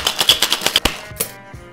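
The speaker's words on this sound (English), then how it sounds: "Now let's add ice and give it a shake before straining it into a cocktail cube." Ice rattling hard in a cocktail shaker, rapid rhythmic loud clacks in even pulses, then a couple of slower knocks as the shaking stops, close and alone without talk.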